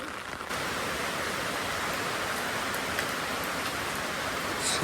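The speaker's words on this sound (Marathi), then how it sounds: "कसलं जोरात पाऊस आलाय." Heavy rain pours down in a dense, constant hiss, close and loud, with a few brighter droplet patters on top.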